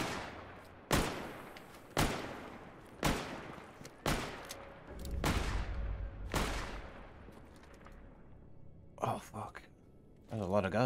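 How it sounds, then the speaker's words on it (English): Gunfire in the video game S.T.A.L.K.E.R. GAMMA: six sharp shots about a second apart, each with a long decaying echo, then a few softer clattering bursts near the end. "He's shooting at the guy on the bridge, I think."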